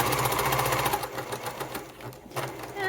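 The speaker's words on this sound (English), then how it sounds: "Then I start sewing." A sewing machine stitches a fabric wallet, its fast rhythmic needle chatter running steadily and close, slowing briefly with a short pause before picking up again.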